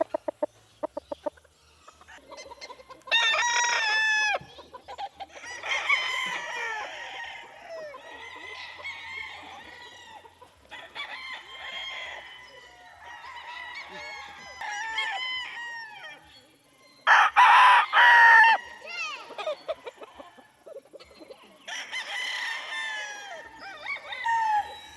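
Young corded gamecock stags, sweater and round head crosses, crowing repeatedly in loud separate bursts with scattered clucks between, outdoors on a game farm and close by.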